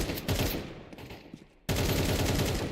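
Rapid bursts of automatic gunfire in a video game firefight, loud and close, broken by a short lull before a dense sustained burst resumes.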